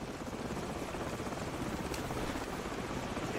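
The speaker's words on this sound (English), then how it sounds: "Hold on, the helicopter's back." Helicopter passing overhead, a steady broadband rotor drone holding at constant loudness throughout with no talking.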